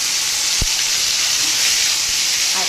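Spice paste of ground cumin, coriander and fennel with ginger sizzles steadily in hot oil for pilau, a continuous close hiss with a brief low thump near the start.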